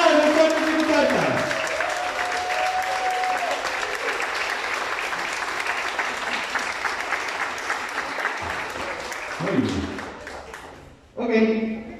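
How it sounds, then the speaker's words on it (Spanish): Loud, sustained applause from a graduation audience for a sixth-grade class, with voices and cheering over the clapping and a short fresh burst near the end. "¡Fuerte el aplauso para ellos!"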